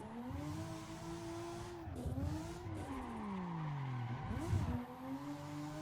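Car drifting with the handbrake in Assetto Corsa: a steady engine drone with pitch swoops as revs rise and fall, tyres squealing through two slides around the middle and end, loud and continuous.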